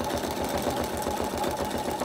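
A sewing machine runs steadily through a free-machine embroidery stitch on fabric appliqué, a close, continuous rapid mechanical chatter with no pauses.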